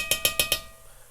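Metal can of thick tomato paste being knocked to free the paste: four sharp, ringing metallic clanks in quick, even succession, close and fairly loud, then fading to quiet.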